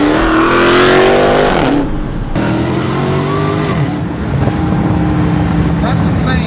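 A Dodge Challenger Hellcat Redeye engine downshifts and revs loudly in rising and falling surges with gear changes, heard from inside the car while people talk over it.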